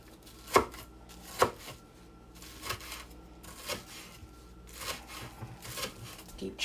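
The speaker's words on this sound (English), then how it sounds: "Keep chopping up the scallion." A kitchen knife chops scallions on a cutting board, with two sharp, loud strikes early on followed by quicker, lighter cuts in an irregular rhythm, close to the microphone.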